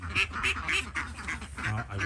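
Wild ducks quack outdoors in the morning, with repeated calls in a steady rhythm close by, a low background hum running underneath.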